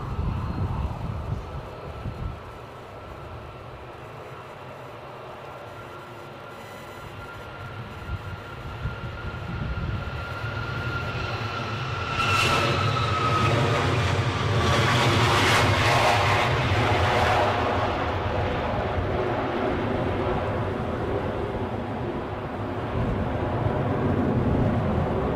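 An Embraer jet's engines at windy Edinburgh airport build from a low rumble into a louder whining roar around the midpoint, with high-pitched turbine tones and sustained broadband noise continuing to the end.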